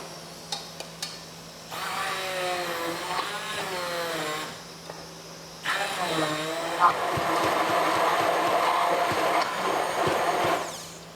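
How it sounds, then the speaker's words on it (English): A NutriBullet hand blender whirs close and loud in two long bursts. Its whining motor shifts pitch as it works, with a short pause between the runs. "So it's a NutriBullet hand blender."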